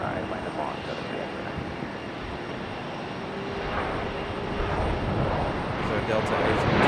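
A Lufthansa airliner landing at Raleigh-Durham airport makes a steady, broad roar that gradually swells louder toward the end, while people talk over it.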